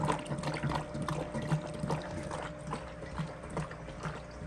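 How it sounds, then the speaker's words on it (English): Water is pumped out through an opened service valve with a continuous close gurgling and splashing flow and small rhythmic pulses, steady in loudness throughout. "you got to close the out valve and then open the service valve down here, and that pumps the water out the window"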